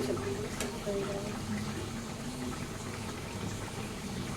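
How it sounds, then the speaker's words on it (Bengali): Vegetables boil in a pot for a sour Bengali fish curry. A steady bubbling simmer continues throughout, and a voice is briefly audible under it early on. "সবজিগুলো প্রায় সেদ্ধ হয়ে ফেলছে, আর একটু করে সবজিগুলো সেদ্ধ হয়ে যাবে।"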